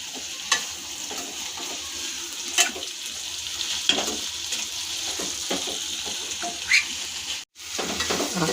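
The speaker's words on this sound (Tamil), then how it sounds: "இப்போ நல்லா வதக்கி விட்டுட்டோம்." Cluster beans with potatoes and shallots sautéing in a pan, a steady sizzle broken by repeated scraping and clattering stirs of a spoon.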